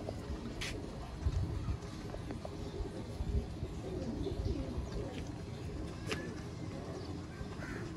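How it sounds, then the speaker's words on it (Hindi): Old Sialkoti pigeons of a prized breeding pair coo softly in a loft, the low, faint calls repeating against quiet background noise with a few sharp chirps from other birds. "ये देखें जी दोस्तों, पुराने सियालकोटी वैशी कबूतर, बहुत ही प्रेल और लाजवाब कबूतर है।"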